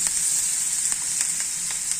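Onions fry in a pan over a low flame, a steady close hiss with soft scraping strokes of stirring at regular intervals and no talking.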